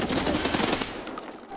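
Rapid automatic gunfire from a PPSh submachine gun in the video game Escape From Tarkov, a dense burst of shots filling most of the short moment before tailing off.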